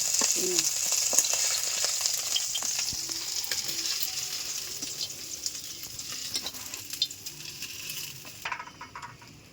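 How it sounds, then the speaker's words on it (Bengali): Prawns fry in hot oil in a wok with a steady, close sizzling hiss, broken by occasional light scrapes and clinks of stirring before the sizzle fades near the end. "চিংড়ি মাছগুলো ভালো করে ভেজে আস্তে আস্তে তুলে নিলাম"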